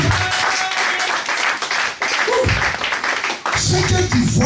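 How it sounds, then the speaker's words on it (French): A church congregation applauds loudly at a Sunday service in continuous dense clapping. Voices and cheers mix in and rise over it in places. "Applaudissez pour la gloire de Dieu."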